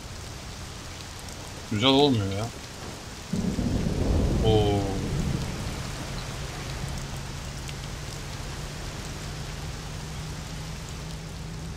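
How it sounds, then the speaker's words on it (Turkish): Rain and thunder in the Mafia video game while driving: a steady hiss of rainfall with low rolling rumble. Someone talks briefly near the start. "Tamam sürüşünüze etki eder ama keyiflidir böyle yağmurun o yağması."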